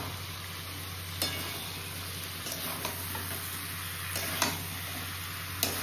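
Fried prawns and jackfruit go into a sizzling ginger, chili and garlic paste in oil. A steady, moderate sizzle is heard, with a few sharp spoon clicks against the pan.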